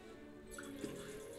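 Water is added to a spinning pottery wheel during a clay-throwing demonstration, giving a quiet, brief drip or splash over a low, steady background hum, with no talk.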